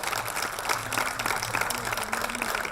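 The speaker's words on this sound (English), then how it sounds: "please give them a big round of applause" An audience at a national poetry slam final in the Gambia claps for the finalists, giving a dense, steady wash of applause that carries on throughout, with faint voices mixed underneath.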